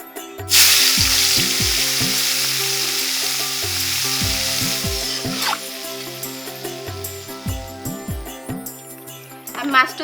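Oil sizzles and fries in a pan with turmeric and salt added, a steady crackling hiss that keeps going throughout. A spoon clinks and stirs against the pan, and someone talks over the frying.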